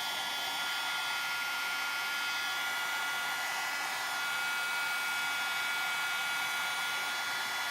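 A heat gun runs continuously to melt embossing powder on a stencil card, a steady close whooshing blower hum with no breaks and no talking.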